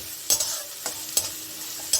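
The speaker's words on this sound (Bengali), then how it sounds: "আর দিয়ে দিচ্ছি এই যে কয়েকটা কাঁচা লঙ্কা। এটাকে আমি কিছুটা ভেজে নেব।" Green chillies frying in mustard oil in a pan, a steady sizzle broken by four sharp stirring scrapes spaced through the short stretch, close and fairly loud with no voices.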